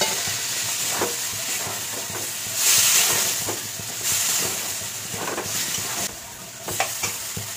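Potatoes with spices for aloo dum sizzle loudly in a kadai as a little water goes in, a steady hiss with swelling bursts of steam and repeated scraping stirs, close and continuous.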